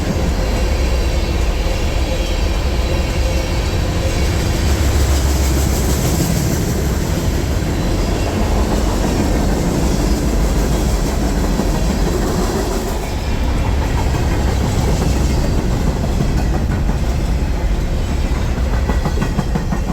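Freight train rolling past during a meet at Afton, New York, a loud, continuous close rumble with rhythmic clickety-clack of wheels over rail joints, steady for the whole stretch with no talk.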